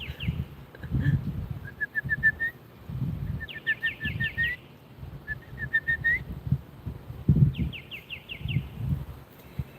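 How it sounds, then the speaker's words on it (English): Birds whistle and sing in repeated bright, rising phrases alongside soft, low cooing of pigeons or doves, moderately loud and fairly near, with no talking, over a faint steady background. "The birds are here to assist."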